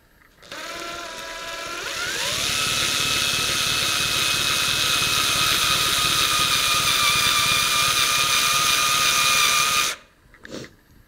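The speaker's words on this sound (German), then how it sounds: "Kann ich schon nicht zu tief bohren" A power drill whirs up and runs steadily at high speed for several seconds while boring into a Kallax shelf unit, its pitch rising briefly at the start, then stops abruptly.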